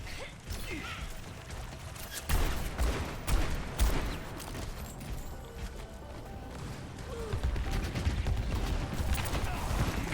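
Turret gunfire in an Overwatch esports match ticks in fast, rattling mechanical bursts under busy game noise, moderately loud and mixed with other effects.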